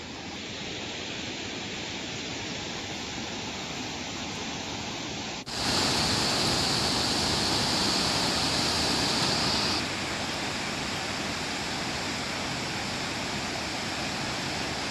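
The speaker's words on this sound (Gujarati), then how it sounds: "મધુબન ડેમમાંથી પાણી છોડવામાં આવ્યું" Massive torrent of water gushing from Madhuban dam after release following heavy upstream rains, a loud continuous roar that jumps sharply in level partway through and stays dense and unbroken.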